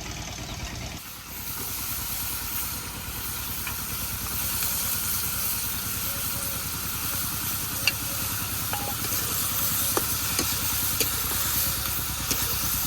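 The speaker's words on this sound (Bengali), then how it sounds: "শুটকি মাছটা কষে নেই" Dried fish frying in spice paste in a village kitchen, a dense continuous sizzle and steamy hiss over a low rumbling background, with a few faint clinks of stirring and no speech.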